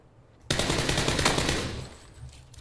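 Automatic gunfire from a PlayerUnknown's Battlegrounds match bursts in suddenly and loud, a dense rattling volley that sustains for about two seconds before easing off slightly, with no voices over it.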